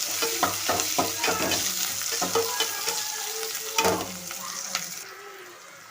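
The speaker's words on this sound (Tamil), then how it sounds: "இப்போ நல்லா கிண்டி விட்டுக்கிறோம்." Frying onions stirred in a pan with mustard seeds and urad dal: repeated scraping strokes of a spoon over a continuous sizzle, close and rhythmic, fading abruptly at the end.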